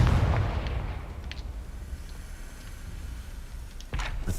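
A Confringo fire spell blast in the video game Hogwarts Legacy, one booming explosion at the start that decays into a soft rumbling tail, then a second sharp burst near the end.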